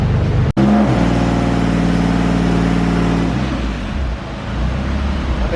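A twin turbo Nissan 370z engine roars loud and close on a dyno pull, holding a steady high-rpm drone after a brief cut near the start, then easing off toward the end.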